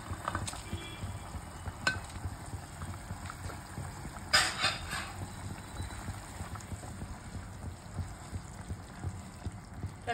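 Pieces of aar fish slipped one after another into a bubbling curry for kalia, a steady low simmer with a few soft splashes and a brief louder plop near the middle, close by with no talking.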